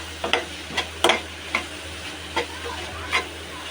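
Mutton curry masala with chili powder fries in a pan, a low steady sizzle punctuated by about seven distinct scraping stirs spaced roughly half a second apart, close and clear with no talk.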